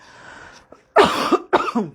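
Two sharp, close coughs in quick succession after a short quiet stretch, loud and distinct with no talking.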